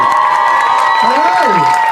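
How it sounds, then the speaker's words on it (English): A New York audience at a Doctor Who event claps and cheers in a dense, steady wash of noise, with a voice rising and falling briefly over the crowd. "You guys are great, you clap all the time"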